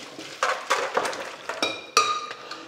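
Boiled potatoes drained into a colander, heard as a quick run of metallic clinks and knocks of pan against colander, close and fairly quiet.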